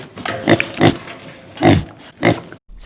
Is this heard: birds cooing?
no